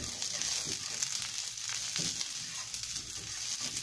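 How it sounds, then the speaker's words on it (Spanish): A piece of onion fries in hot oil in a pan where tortillas were just fried, giving a steady, close sizzle and bubbling with soft stirring, no voices. "Vamos a freírlo."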